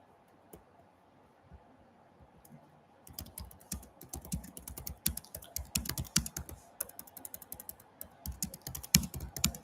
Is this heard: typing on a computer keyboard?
yes